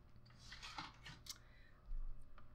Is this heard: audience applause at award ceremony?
no